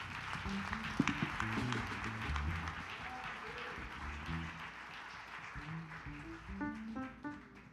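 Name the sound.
congregation applauding in church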